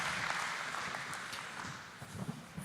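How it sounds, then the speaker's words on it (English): Dense applause from an audience at a startup contest, a steady wash of clapping that holds throughout and tapers slightly near the end. "let's give a big round of applause for Reality Games"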